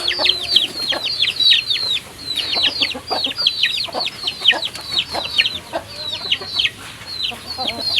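A flock of chickens in a flood-prone coop, many birds clucking and squawking in quick repeated bursts, near and lively, with short pauses between flurries and no speech.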